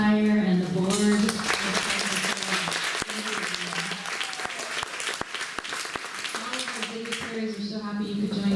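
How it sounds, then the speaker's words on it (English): Audience applause at a Day of Remembrance gathering in Fresno, steady clapping that runs under someone speaking over a microphone at the start and end. "Maybe a round of applause for Cardinis"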